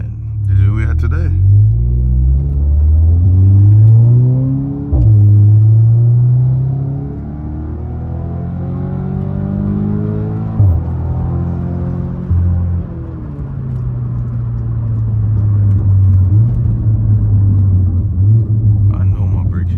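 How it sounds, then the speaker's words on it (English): Cabin of a Cadillac CTS with a turbo inlet and loud exhaust setup fills with deep, steady engine and exhaust drone, rising and falling with throttle through the drive, strong low rumble throughout. "In-cabin noise with the exhaust setup is literally too loud"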